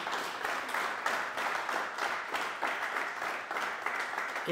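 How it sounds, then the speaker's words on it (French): Sustained audience applause at a monthly club broadcast, an even, moderately distant patter of many hands clapping without a break and with no talking over it. "Et on peut applaudir."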